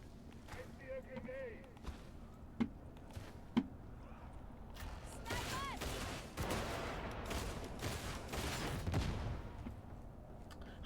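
Rapid bursts of gunfire from the Warhammer 40,000 game Darktide, sharp cracks over dense continuous combat noise, with a voice talking over it.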